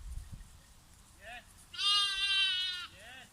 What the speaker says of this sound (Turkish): İşte 30 tane koyunumuz var.